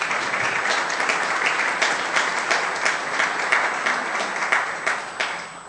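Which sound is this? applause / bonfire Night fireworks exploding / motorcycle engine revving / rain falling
applause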